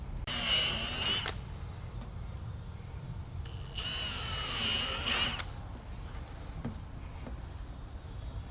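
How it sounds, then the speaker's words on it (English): A power drill bores holes into the fender of a Can-Am Defender HD11 side-by-side, whining in two high-pitched bursts of about one and one and a half seconds, separated by a pause, moderately close with faint background hum. "now you can drill your other holes"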